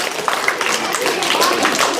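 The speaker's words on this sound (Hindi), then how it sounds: "जोरदार ताली।" Students and staff clap steadily at a school election results announcement, a dense, continuous patter of applause filling the whole moment at close range.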